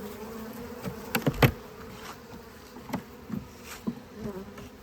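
Honey bees buzz around an open hive outdoors, a constant close drone with individual bees zipping past the listener in brief louder passes.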